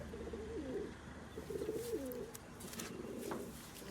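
Pigeons coo in soft, rolling phrases, several overlapping calls repeating close by over a quiet background.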